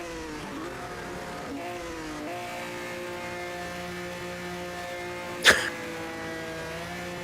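Opala stock car engines drone and rev in the racing game Automobilista, several tones rising steadily in pitch through shifts, with one sharp burst partway through.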